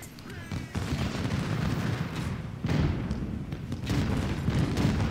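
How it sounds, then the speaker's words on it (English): Enemy rifle fire in an Ultimate General Civil War battle, a dense continuous roar of massed musketry with booming volleys swelling in waves. "Ignore the enemy rifle fire."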